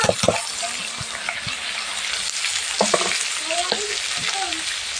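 Chopped carrot and cabbage stir-frying for egg chowmein, a steady close sizzle with intermittent scraping and clinking of the spatula against the pan as the vegetables are tossed.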